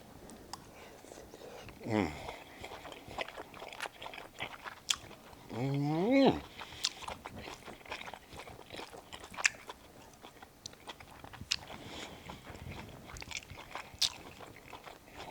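Someone eating Southern-style fried cabbage with salt pork up close, with soft chewing, bites and mouth sounds, brief hums or murmurs, and a short vocal sound of approval midway.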